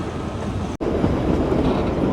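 The Kalka-Shimla heritage toy train runs on its narrow mountain track, a loud continuous rumble of wheels and carriages with a brief sharp dropout partway, then steady rolling noise, with no talking.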